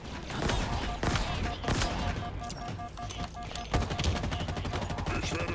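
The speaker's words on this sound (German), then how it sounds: "Ich werde beschossen." Enemy gunfire aimed at the player in Halo Infinite, rapid bursts of automatic shots and sharp single cracks overlapping continuously, fairly loud, with game sound effects mixed in.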